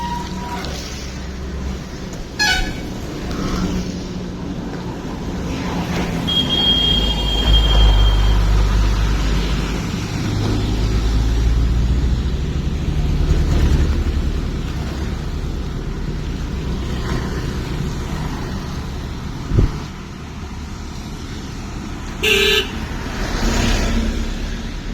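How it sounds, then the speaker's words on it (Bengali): A large vehicle moving along a rain-flooded main road, a loud rolling engine rumble building and fading over several seconds with water wash and a couple of short horn toots, no talk. "বড় গাড়ি আসছে, বড় গাড়ি তো ভিজিয়ে দেবে রে।"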